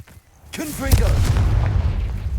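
A Confringo blasting spell cast in Hogwarts Legacy, a deep booming blast that swells after a brief spoken incantation and then rumbles on loudly with a low, sustained roar.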